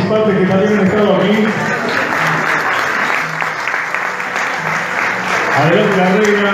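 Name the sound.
applause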